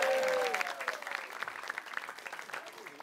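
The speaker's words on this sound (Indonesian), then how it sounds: "Tepuk tangan dulu dong." Audience applause at a stand-up comedy show, a burst of crowd clapping with cheers that starts loud and thins out over a few seconds.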